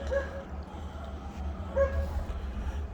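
Dogs yelp and howl far off, two faint, brief calls rising out of a steady low background murmur.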